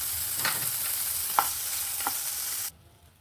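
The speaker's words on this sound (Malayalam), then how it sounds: "അതിലേക്ക് 1 പിഞ്ച് ഉപ്പും കുറച്ച് മുളക് പൊടിയും ഇട്ട് ഒന്ന് ചെറുതായി ഫ്രൈ ചെയ്തെടുക്കാം" Paneer cubes fry in hot oil with a pinch of salt and chilli powder, giving a steady close sizzle with a few stirring scrapes in the pan, then cutting off abruptly near the end.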